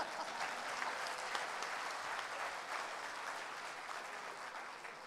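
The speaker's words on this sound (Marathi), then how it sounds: "या टाळ्या प्रायोजित नव्हत्या, या उत्स्फूर्त होत्या" Spontaneous audience applause at a Marathi community event, sustained dense clapping from a sizeable crowd filling the whole stretch at an even, moderately loud level.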